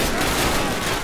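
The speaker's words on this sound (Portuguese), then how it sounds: "É só uns tiros aleatórios, randômico." Dense gunfire from the World War II video game Call of Duty 2, a loud, continuous crackle of shots packed into one second.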